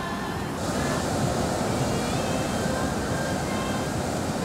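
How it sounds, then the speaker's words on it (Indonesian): Ocean surf roars at Pulang Sawal beach, Gunungkidul, Indonesia, as a steady broad wash of noise, loud and continuous, with wind buffeting the microphone and no voices. "Suara deburan ombaknya sangat kencang dari sini."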